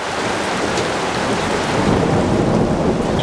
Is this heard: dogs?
no